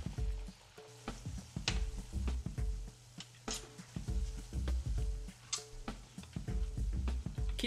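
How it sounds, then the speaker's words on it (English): Softened vegetables for osso buco sizzle quietly in a pan as wine is added, with a soft crackling fry broken by repeated clacks and taps of a utensil stirring against the pan. "Once your veggies have softened up, then it's time to add the wine."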